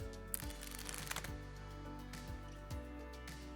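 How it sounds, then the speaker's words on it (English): Playing cards riffle-shuffled together, a mixed deck of face-down and face-up cards, giving a close, quiet, steady fluttering purr with a few soft taps as the halves meet. "here you're simply going to riffle shuffle the face down cards and the face up cards together"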